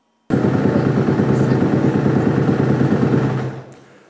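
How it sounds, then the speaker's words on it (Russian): A motocross motorcycle engine roars loud and close with a steady buzzing drone, then cuts off and fades at the end. "Максимум адреналина под шум моторов."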